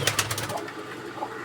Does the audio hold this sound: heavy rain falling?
no